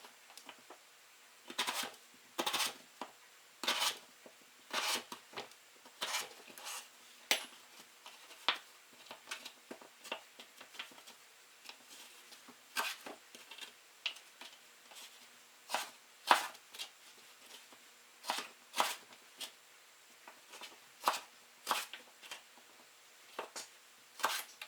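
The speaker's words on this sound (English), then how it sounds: "So now I'm just going to half the potato. And we're going to cut it into strips." Knife halving a potato and slicing it into strips on a cutting board, a long run of crisp, sharp chops in an irregular rhythm, close and fairly quiet with no talking.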